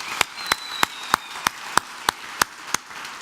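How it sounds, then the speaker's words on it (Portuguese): Steady rhythmic clapping in a church or lecture setting, about ten sharp, evenly spaced claps over three seconds, close and clear with no talking. "Vamos aplaudir esses dois aqui, mais uma vez."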